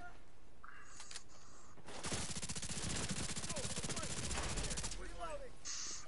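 SMG and rifle fire in The Division 2, heard as a dense, rapid burst of automatic shots lasting a few seconds in the middle, with quieter game ambience before and after and no talking.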